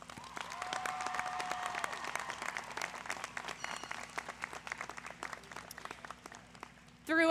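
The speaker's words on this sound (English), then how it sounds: "please join me in giving a round of applause to your family and friends." A crowd at a commencement ceremony applauds steadily at moderate distance, a dense patter of clapping that carries on evenly before a brief louder burst at the end.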